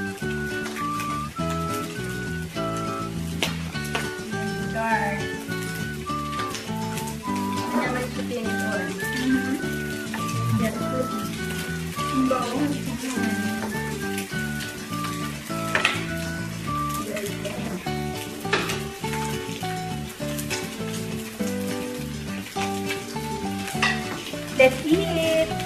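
Samgyupsal pork frying on a hot pan, a dense continuous sizzle and crackle running steadily underneath lively talk and background music, close and fairly loud throughout.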